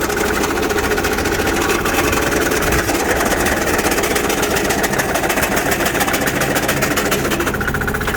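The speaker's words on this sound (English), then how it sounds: "so only 6 horsepower diesel and another Transaxle shot" A 6 horsepower diesel engine on a Sears loader runs continuously, loud and close, with a fast, even knocking chug that holds steady throughout.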